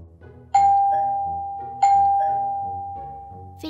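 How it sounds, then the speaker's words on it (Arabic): A doorbell rings twice, each clear chime ringing out and fading, with a quiet room between the rings. "في المرة الأولى دق الجرس مرة واحدة، وفي المرة الثانية دق الجرس مرتان"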